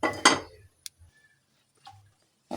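A metal spoon clinks against a pan while oil is added for cooking okra, heard as one bright rattling clatter followed by two brief light taps, close up in an otherwise quiet kitchen.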